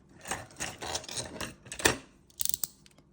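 An acorn having its top cut off with a small tool, heard close as a run of scraping, crunching cuts that ends in a quick burst of sharp clicks.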